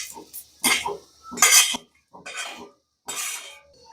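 Fried onion, roasted until dark, scraped from a pan onto a plate with utensils during a Marathi mutton curry recipe: several short bursts of clattering metal scraping and clinking, close and fairly loud, with pauses between.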